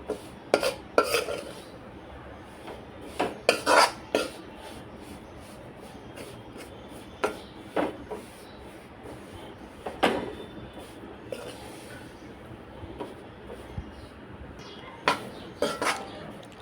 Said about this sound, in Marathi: असं थोडं थोडं करूनच आपण नाचणीचं पीठ भाजून घ्यायचं आहे.